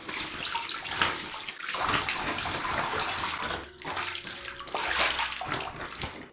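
Water runs and splashes loudly while a cleaned soap-scum bucket, scrub brushes and gloves are rinsed down, a continuous rushing gush that briefly dips midway before surging again.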